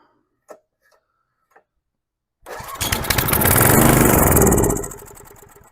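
A tiller's small engine catches after a few faint clicks, roars roughly for about two seconds, then sags and dies back toward quiet, failing to stay running.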